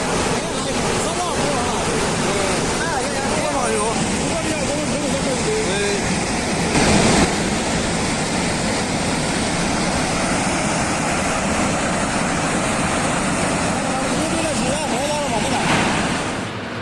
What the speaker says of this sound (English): Relentless rains trigger a devastating flood, swallowing cars and sweeping entire houses off their foundations.